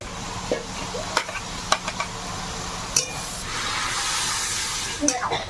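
Small prawns hit a pan in a Sundarbans-style village kitchen after greens have finished frying, giving a steady sizzle with scattered utensil clinks and scrapes, fairly close and at moderate level.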